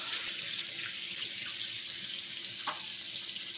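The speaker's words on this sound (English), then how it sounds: "after you wash your hands after touching that beef" Steady stream of water running from a kitchen tap while hands are washed after handling raw beef, a continuous close rush with a few faint clinks, no talk.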